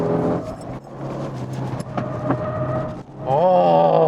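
A Genesis G70 3.3 Sport lapping Inje circuit while sliding slightly, its engine droning steadily from inside the cabin, then rising into a loud rev near the end.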